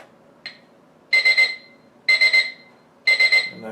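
A digital alarm clock sounds its alarm: three bursts of rapid high electronic beeps, each a quick cluster of pips, evenly spaced about a second apart, loud and close, after a single faint short beep.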